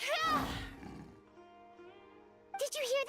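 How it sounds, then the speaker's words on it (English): A Rishbalin tiger roars in Genshin Impact, one deep, loud growling roar that fades into a quiet hum before a person starts speaking. "That was the sound of a Rishbalin tiger."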